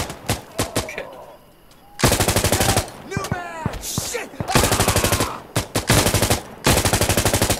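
Rapid automatic gunfire in Insurgency: Sandstorm, several loud close bursts of fast shots with short gaps between them, plus some scattered single cracks and shuffling.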